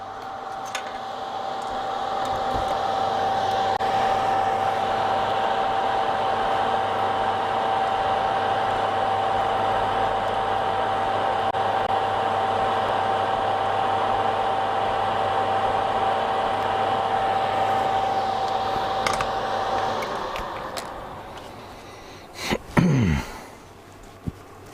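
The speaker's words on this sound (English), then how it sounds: "Put the extractor on, really. Come on. Come over here, Mr. Extractor." An extractor fan pulls fumes from a workbench during soldering and rewiring work on a Bush DAC10, giving a steady close whirring hum with a faint whine for about twenty seconds before spinning down.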